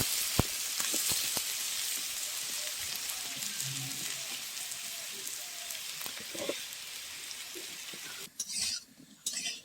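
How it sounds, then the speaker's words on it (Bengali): Potato pieces fry in hot oil in a village kitchen pan, a steady bright sizzle with scattered sharp clicks of stirring against the pan, the hiss briefly dropping and returning near the end. "আলুগুলো আমি লাল করে ভেজে নেব"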